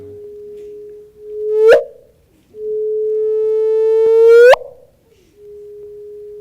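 A sonified gravitational-wave chirp from a black hole merger is played at raised pitch: a steady pure tone that sweeps sharply upward into a brief chirp and cuts off, heard twice, alone and clear, with the second rise longer.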